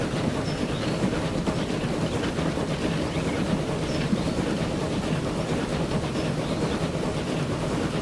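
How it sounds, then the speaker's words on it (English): Train rumbling along the rails in Transport Fever 2, a steady, even rolling drone with faint rhythmic clatter, moderately loud and continuous throughout, no talk. "Oh, look at that, there's a train"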